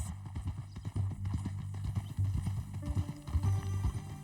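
Horse hooves clip-clop in Red Dead Redemption 2, a steady rhythmic walking beat of fairly close, moderately loud hoof strikes with no talking over them.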